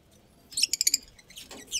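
Par blue pigeons in a loft give a short burst of chirpy, fluttering calls followed by a softer second call, close by and with no one talking.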